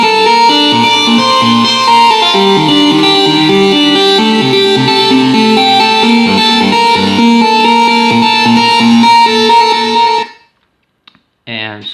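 Synth lead preset plays a sustained, bright, buzzy melody with layered tones for about ten seconds, loud and alone, before cutting off abruptly into near silence with a brief stray note at the end.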